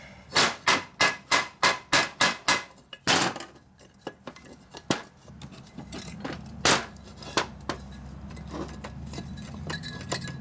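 Metal hammer blows strike a 1937 Harley-Davidson ULH knucklehead four-speed transmission shaft during a rebuild: a quick rhythmic run of about nine sharp, ringing clanks, then sparser, scattered taps over a low background hum.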